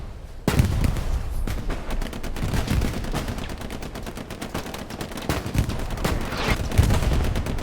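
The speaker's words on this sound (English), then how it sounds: "Artillery blasting heavily to both sides here." Heavy artillery blasts and gunfire in the Hell Let Loose battlefield game, a dense, loud barrage of booms and rapid cracking shots with no gaps, starting abruptly after a brief quiet moment.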